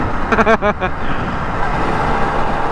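A Yamaha MT-09 motorcycle is ridden at speed, giving a continuous dense roar of engine and wind rush that stays steady and close. A brief voice is heard at the very start.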